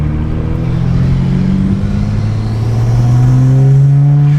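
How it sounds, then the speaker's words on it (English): A BMW 335i with an aftermarket intake and cowl delete revs hard up close, a loud rising engine drone with strong intake whoosh and a climbing pitch that swells toward the end. "You hear that sucking of the air?"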